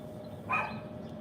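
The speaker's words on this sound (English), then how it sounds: "this dog ain't gonna stop barking" A dog barks once, a short sharp bark partway through, at moderate distance over a steady room hum in the background.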